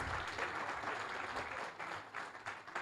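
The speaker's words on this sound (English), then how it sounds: "Please give me a round of applause" A dense wash of audience applause at a club's economic session, moderately distant and continuous, with individual claps blurring into a steady roar that flickers slightly toward the end.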